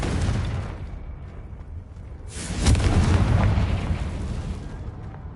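A Confringo fire spell from Hogwarts Legacy bursts in a loud, close blast partway through, its broad rumble swelling and then slowly fading over a background hiss of combat.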